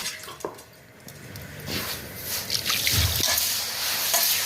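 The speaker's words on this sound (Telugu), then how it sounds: "చక్కెర మునిగేటట్టు నీళ్ళు పోసుకోవాలి" Water trickles and splashes as it is poured over sugar in a pot to make syrup for boondi laddu, a soft liquid dribble with light clinks, close by, no speech.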